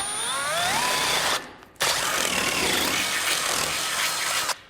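A power drill bores a bit through the steel frame bracket of a 2017 Jeep Wrangler, a loud steady grinding whine that cuts out briefly partway, then resumes and stops abruptly near the end.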